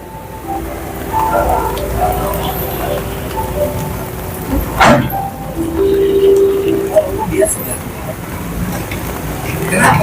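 Heavy rain pours steadily over the Kali Baru river area in Tambun, Bekasi, where construction work continues, with a dense hiss of falling water, a few faint bird calls and a brief sharp noise near the middle.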